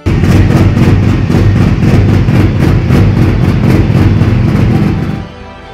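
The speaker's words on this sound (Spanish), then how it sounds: "Escuchá cómo regula." A car engine idling, heard loud and close with a steady low rumble and a regular pulsing beat, running evenly before dropping off sharply near the end.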